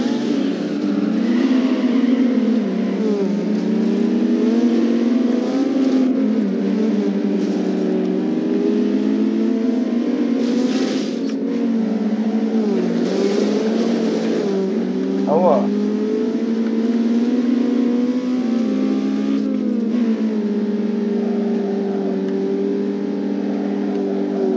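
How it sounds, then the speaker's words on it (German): A tuned car in Need for Speed Underground 2 holds full throttle, its engine droning loud and steady with rising and falling revs, while a voice talks over it. "Gehen wir mal mit unserer aufgemotzten Karre ein bisschen Vollgas"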